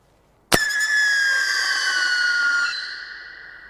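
A squealing New Year's Eve firework goes off with a sharp crack, then a loud, piercing whistle-like scream that slowly falls in pitch and fades over about three seconds.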